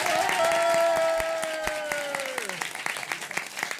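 Audience applause used as a vote for a favourite story at a live show, broad clapping with a sustained tone sliding downward, then thinning into scattered individual claps.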